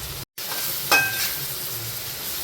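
Mutton masala sautéed in a pan for mutton chukka, a continuous close sizzle broken by a brief gap and one bright spatula scrape against the metal.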